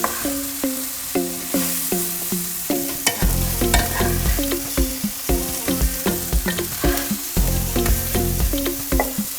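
Potatoes and vegetables for homemade hash sizzle in a pan while being tossed and stirred, with rhythmic scraping and clattering strokes over a continuous loud hiss, close up and without talk.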